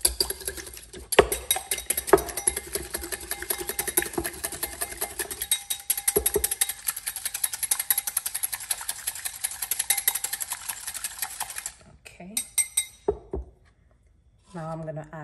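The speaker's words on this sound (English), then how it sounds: "Whisk that up." An egg is whisked in a bowl, giving a fast, steady clatter of rapid light taps for about ten seconds, followed by a few scattered clinks.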